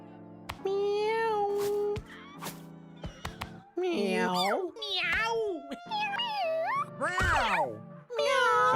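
Cartoon cats in the video game Mewgenics meow repeatedly, a string of close, varied mews and yowls with brief pauses, interleaved with synthetic game tones and chimes.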